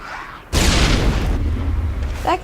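A single loud missile explosion in the sci-fi shooter Mass Effect bursts in sharply, then rumbles and fades over a couple of seconds, with a voice briefly heard at the very end.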